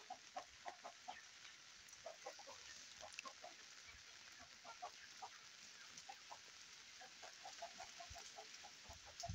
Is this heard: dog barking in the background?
no